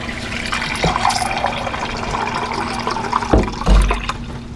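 Liquid poured into an Instant Pot over corned beef brisket, a continuous splashing fill lasting a few seconds, close and fairly loud, ending with a couple of knocks.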